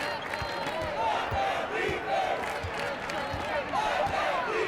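Hostile arena crowd in the basketball video game NBA 2K20, a steady roar with chants and shouts rising and falling, occasional ball bounces thudding beneath and commentary voices talking over it.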